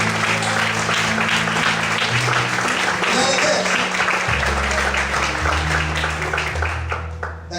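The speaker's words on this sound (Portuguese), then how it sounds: "Você pode aplaudir bem forte a Deus nessa noite." A church congregation applauds loudly at an evening worship service, a dense sustained wash of clapping over low music or organ tones, fading slightly at the end.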